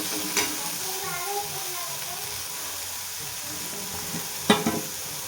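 Spices and chilli masala sauté in hot oil, a steady close sizzle with a few sharp stirring clanks of a spoon against the pan.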